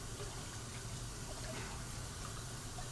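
Steady water from a tap rinsing a part of a Cuisinart CJS-300 juicer, a continuous close hiss and splash with no pauses.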